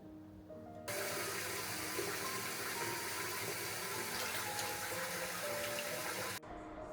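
Running water from a bathroom sink rushes and splashes steadily for several seconds while a face is washed by hand, starting abruptly and cutting off near the end.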